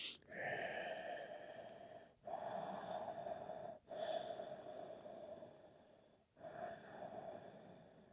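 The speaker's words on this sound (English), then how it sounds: "Take a few breaths." Slow, deep breaths during a relaxing yoga pose, each long inhale and exhale drawn audibly through the nose, about four cycles with short pauses, soft and close in a quiet room.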